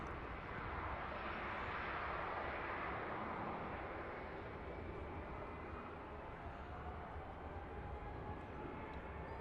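Vueling airliner jet engines spooling up for takeoff at Manchester Airport, a steady broadband roar holding loud and continuous throughout, with no talk over it.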